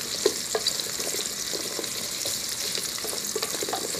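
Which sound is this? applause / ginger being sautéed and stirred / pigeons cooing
ginger being sautéed and stirred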